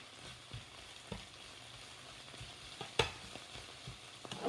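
Pork fried rice being stirred in a small amount of oil in a pan, a soft sizzle with intermittent scraping and tapping of the utensil, one sharper clack partway through.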